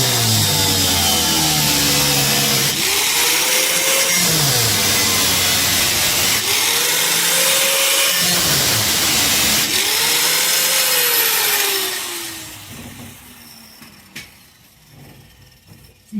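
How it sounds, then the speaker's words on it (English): A cutting wheel grinds loudly and continuously through sheet-metal floor panel on a 1956 Studebaker Hawk, its whine rising and falling in pitch as it bites, before cutting off and spinning down into quieter shop noise. "I put about a 1/16 inch gap in with the cutting wheel"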